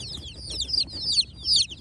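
Chickens inside a delivered cardboard box chirp and peep in high, quick bursts, nearby and repeated several times with no voices.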